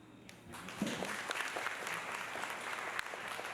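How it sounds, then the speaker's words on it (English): Applause from a seated audience at a business founders' summit session, swelling in after a faint start and holding as a steady, moderately distant wash of clapping. "I really didn't have to say a round of applause."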